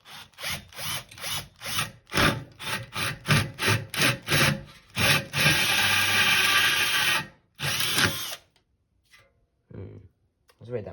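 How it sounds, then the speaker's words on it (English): A power drill with a bit boring into a homemade furnace of plaster of Paris and sand, short stuttering bursts of whirring and grinding followed by a longer continuous run, then another burst and silence; close and fairly loud. "I'm gonna drill kind of down and maybe to the side a little bit as well."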